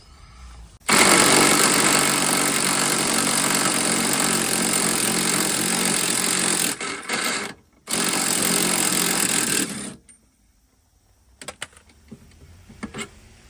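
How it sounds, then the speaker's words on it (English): An impact gun loosens the rear shock absorber bolt on a Chevy Traverse, giving a loud, continuous rattling buzz that runs for about six seconds, cuts out briefly, then bursts again before falling to faint clinks. "then I'm gonna use my impact gun on the bolt to rip this up"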